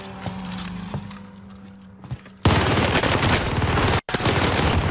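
Rapid automatic gunfire in Call of Duty: Warzone from an Automaton rifle, a loud, dense burst of shots that starts about halfway through and continues with a short break, after quieter in-game ambience and engine hum.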